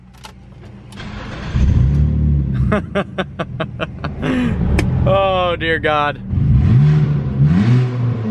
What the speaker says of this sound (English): Time to fire this bad boy up again.